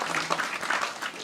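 An audience at a religious talk on marriage and household harmony claps, a short burst of applause with some voices mixed in, fairly close and steady.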